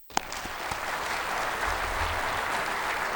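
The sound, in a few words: audience applause at an opening ceremony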